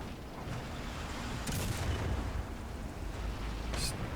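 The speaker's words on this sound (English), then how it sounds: "I'm going to put some arty onto that flak 37" Artillery falls on a Flak 37 anti-aircraft gun in War Thunder, muffled booms and crumps sounding from a distance over a constant engine rumble, with two sharper bursts standing out.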